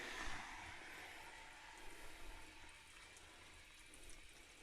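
Hot water poured into a boiler pot for cooking greens on a rainy day, a steady faint rushing splash of liquid that continues evenly and softens toward the end.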